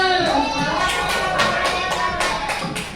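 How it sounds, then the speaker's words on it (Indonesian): Schoolchildren in a classroom give a short round of applause, a steady patter of many small hands clapping close by, with voices mixed in underneath. "Kasih aplaus dulu buat kelompok 2 dan juga kelompok 4."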